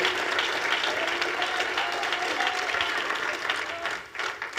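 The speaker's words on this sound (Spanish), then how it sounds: "Denle un aplauso con todo el corazón a nuestro Dios" A church congregation applauds during a sermon, sustained clapping from many hands with a few faint vocal tones mixed in, loud and even before thinning out near the end.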